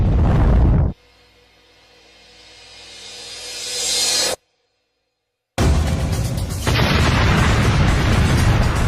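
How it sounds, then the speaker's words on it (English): A massive booming crash as an El Al 1862 airliner slams into the sixth floor of an eleven-story apartment block, a loud roaring impact that drops to a low rumble, swells, cuts out briefly, then returns as a sustained loud blast. "El Al 1862 smashes into the 6th floor of the 11-story apartment block."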